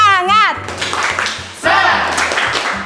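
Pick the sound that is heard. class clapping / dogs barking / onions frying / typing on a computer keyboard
class clapping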